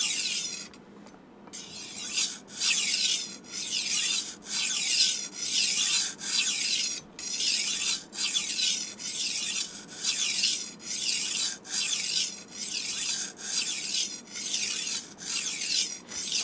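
A tumbler knife sharpener grinds a knife edge in regular rhythmic strokes, each a loud rasping scrape repeating about once a second, close up with no voices.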